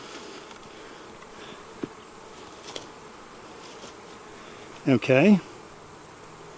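Honeybees buzz around a hive during fall bee yard maintenance, a steady faint drone throughout, with a short louder burst near the end as one flies close, plus a brief spoken word.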